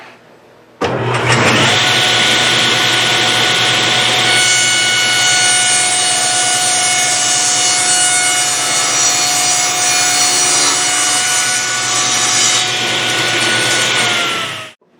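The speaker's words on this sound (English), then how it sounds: "while I'm still at the table saw, I'll rip our seat piece down to 2 1/2 inches wide" A table saw rips a wooden seat piece to width, a loud close whine that starts abruptly and holds a steady pitched drone with cutting rasp, then spins down at the end.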